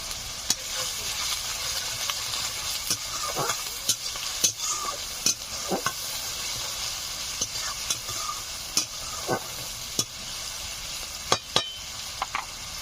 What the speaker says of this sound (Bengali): পেঁয়াজগুলো হালকা ভাজা ভাজা হয়েছে